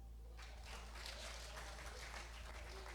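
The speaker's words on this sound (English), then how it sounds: "Clap for me." Church congregation applauding during a sermon, faint and distant clapping spread over a low hum that swells after a brief quieter start.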